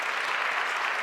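A church congregation at a Sunday youth worship service claps in welcome, a dense continuous burst of applause throughout the short stretch, with no speech.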